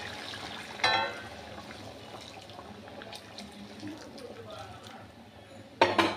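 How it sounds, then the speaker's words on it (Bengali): Boiling hot water poured over chicken in a pan, a short splashing pour near the start and another near the end, with light watery trickling and hiss between them, close by and without talk. "এই বয়েল ওয়াটার ফুটনো গরম জল দিয়ে দিচ্ছি"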